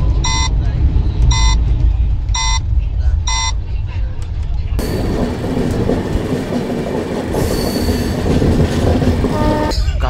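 A train rolls along steadily, heard from inside a coach as a continuous rumble with repeated rhythmic clatter, a sharp tonal horn-like burst near the end, and voices talking faintly over it.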